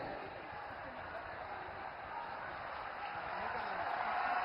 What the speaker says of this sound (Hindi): जोरदार तालियां बजती रहनी चाहिए साथियों